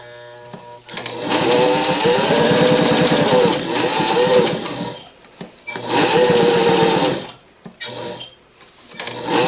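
A vintage Singer Fashion Mate 257 sewing machine stitching four layers of velour upholstery fabric on straight stitch, with two long loud runs of rapid mechanical whirring and then a short final burst, separated by brief pauses.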